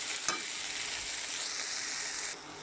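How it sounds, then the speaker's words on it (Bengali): Winter pitha cakes with coriander leaves fry in a pan, giving a soft, steady sizzle with a brief stirring scrape near the start. The sizzle is fairly faint and close, with no talking. "আমার পিঠাটা ভাজা হয়ে আসতেছে, এই যে শেষের পথে।"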